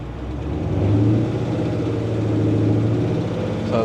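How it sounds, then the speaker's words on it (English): A supercharged Whipple Jeep SRT8 with nitrous and a misfire idles with a steady, close, loud engine rumble, picking up slightly as it is given a little gas. "Steven, try to give it a little gas, just a little bit"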